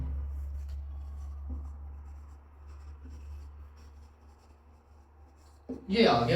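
A marker scratches across a board in a steady, faint rubbing stroke under a low hum, with someone speaking briefly at the end.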